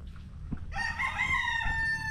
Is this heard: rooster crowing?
yes